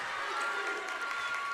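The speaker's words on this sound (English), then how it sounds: "Crowd across the way, very active." A crowd cheers and murmurs in an electric high school gym during a close Friday night girls' basketball game, a steady, moderately distant roar of voices with no single standout call.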